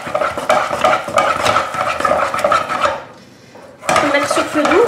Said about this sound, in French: je vais bien mélanger. Jusqu'à ce que la pâte se décolle des parois de la casserole.